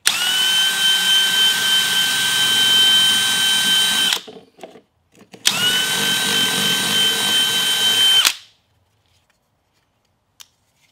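Power drill boring holes in a shower drain adapter, two loud, steady high-pitched whirring bursts of about four seconds each, separated by a brief pause and followed by silence.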